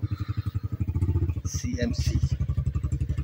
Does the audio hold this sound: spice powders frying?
no